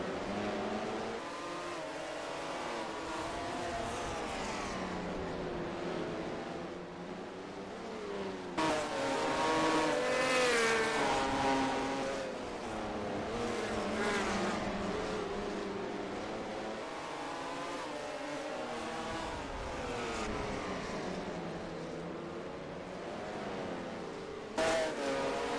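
Race cars lapping an oval at Lee Speedway during a TMP Winter Series event, engines roaring and surging continuously with passing cars rising and falling, loud and close.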